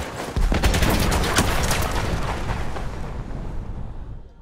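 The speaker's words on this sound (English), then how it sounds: "I missed 3 shots in a row." Heavy gunfire and explosions in the World War I video game Battlefield 1 form a loud, dense barrage of cracking shots and booming blasts that rumbles on and slowly fades.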